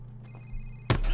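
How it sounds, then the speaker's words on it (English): A cell phone rings in a Call of Duty 4: Modern Warfare interrogation scene, a short electronic ring tone broken off by a loud, sudden thump. "Sir, it's his cell phone."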